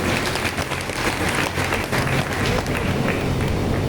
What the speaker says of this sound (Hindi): एक जोरदार ताली सामने मंच के लिए हो जाए।